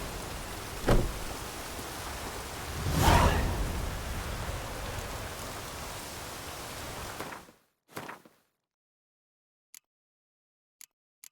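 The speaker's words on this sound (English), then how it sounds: "Looks like rain" Rainfall in The Witcher 3 hisses as a steady, even wash for several seconds, then cuts off abruptly, leaving only a few faint clicks.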